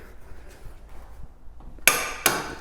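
A DeWalt cordless impact wrench breaks loose a nut torqued to about 300 Nm, two loud close hammering bursts near the end after a stretch of quiet background.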